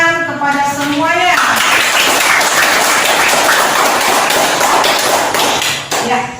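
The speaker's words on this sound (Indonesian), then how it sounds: "Berikan tepuk tangan kepada semuanya." Classroom applause from a group of students, a dense, steady wash of clapping that fills nearly the whole stretch at close range, with a teacher's voice briefly over the start.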